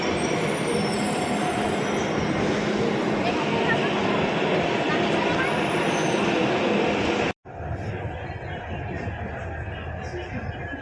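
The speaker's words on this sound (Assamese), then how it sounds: "মেট্ৰ' আহি পাইছেহি" A Hyderabad metro train pulls into a station with loud, steady rumbling and squealing wheels. The sound cuts abruptly near the end, and quieter platform ambience follows.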